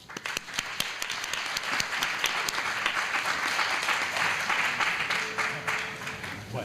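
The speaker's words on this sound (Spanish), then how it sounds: "Un fuerte aplauso." Steady audience applause from a lecture hall crowd, dense clapping sustained throughout at an even level before tapering slightly at the end.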